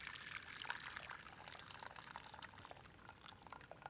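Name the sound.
pouring hot water out of silicone microwave pasta cooker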